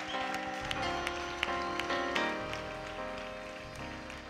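A church congregation claps in a steady rhythm over loud worship music at an Easter weekend service, with the sharp claps landing regularly throughout.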